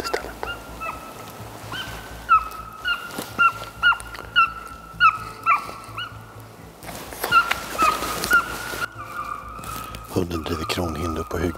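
A hunting dog driving red deer across a clear-cut bays in a quick run of distant, repeated high yelps and barks, spaced in short bursts, with some faint outdoor noise beneath.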